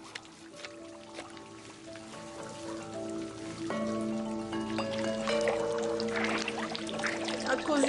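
Water poured out of a container, a close, bubbling and gurgling stream with shifting splashing tones that grows louder and fuller toward the end.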